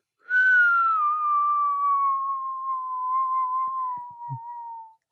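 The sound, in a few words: whistled imitation of falling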